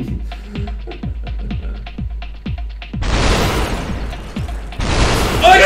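Gunfire in the VR shooter SuperHot VR: a rapid series of sharp, punchy shots in a steady rhythm, followed by two louder, broader blasts that burst in and fill the sound, all close and without talk.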